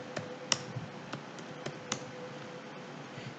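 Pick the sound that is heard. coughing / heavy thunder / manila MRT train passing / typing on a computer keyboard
typing on a computer keyboard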